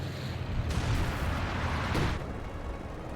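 Artillery barrage in a Company of Heroes 2 battle, a sustained rumbling roar of distant shell blasts with brighter impacts near the start and again around two seconds, no voices over it.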